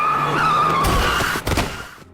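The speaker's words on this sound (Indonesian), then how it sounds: "dia malah ketabrak mobil saat ingin pergi dari sana" In the film Bangkok Storm, a car's tires squeal in a long, loud skid, followed by a sharp thudding impact as it strikes a man, then a quick fade to silence.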